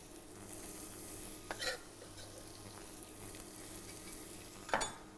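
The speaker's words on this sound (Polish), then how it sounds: "smażymy cebulę." Onions fry in butter and oil in a pan, a soft steady sizzle with two short scraping stirs of a utensil, close and fairly quiet, no voices.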